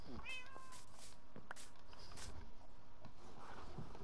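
A cat meows in the Minecraft video game, several short high mews near the start and another faint one later, with scattered clicks over a quiet background.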